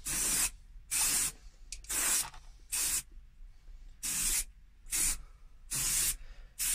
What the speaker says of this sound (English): a simple stop start spray like this, gently overlapping what we've previously sprayed